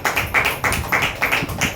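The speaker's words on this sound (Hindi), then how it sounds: "ताली बजाओ भाई इस माता के लिए।" An audience claps for a mother in rhythmic unison, about six or seven sharp claps in a steady beat. The claps are close, clear and alone, with no talk over them.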